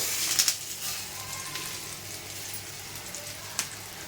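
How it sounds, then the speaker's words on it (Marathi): Rava-coated bangda mackerel fish shallow frying in oil in a pan, a soft steady sizzle at low volume with a few sharper crackles and pops near the start and later on. "इथे आपण शॅलो फ्राय करत आहोत."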